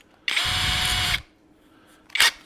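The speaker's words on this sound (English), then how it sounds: "let's just drill this in." A power drill runs in one loud, steady burst of about a second while driving bolts into a custom steering mount on a 1937 Zephyr, followed by a brief second whir.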